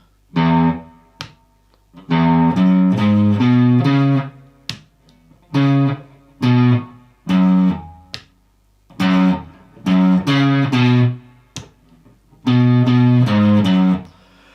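A single electric guitar picks out the main riff of a song slowly, note by note, in short phrases separated by brief pauses, clean and close.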